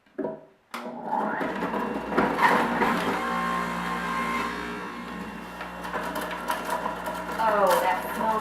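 Electric juicer whirring steadily as fresh ginger and garlic are fed through, a continuous loud grinding motor drone with a voice speaking over it.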